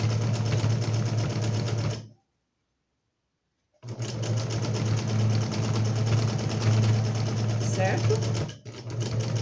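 Sewing machine stitching training fabric folded beside the presser foot, running loud and steady with a droning hum, cutting out for about two seconds before restarting; a voice speaks briefly.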